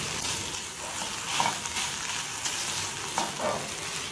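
Coconut pieces sizzling and bubbling in sugar syrup in a hot pan, with a spatula scraping and stirring in irregular strokes, loud and close and continuous, with no talking.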